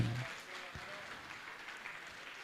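Audience applauding at a Jain monk's spiritual question-and-answer gathering: a soft, steady wash of many hands clapping, heard faintly from a distance with a brief louder patch at the start.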